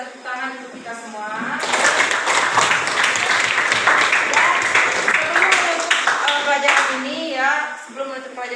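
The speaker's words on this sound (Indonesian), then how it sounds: "Tepuk tangan untuk kita semua" Classroom students clap together at the end of an economics lesson, a dense, bright burst of hand clapping lasting several seconds, mixed with children's voices and chatter.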